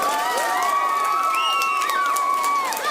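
A crowd at the Clarinbridge v Salthill Galway Senior B camogie final cheers loudly, with high shrill shouts and whoops rising over a constant roar and a little clapping beneath.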